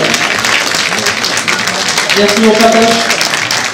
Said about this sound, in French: on les applaudit une dernière fois